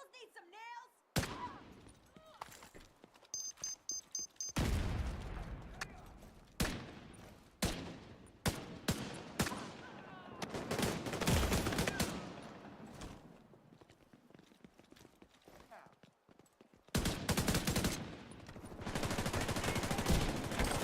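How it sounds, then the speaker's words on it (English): Rifle gunfire in The Division 2, loud bursts of shots in rapid volleys with brief pauses between strings, close and sharp, with some footsteps and talk in between. "Holy recoil on the rifle."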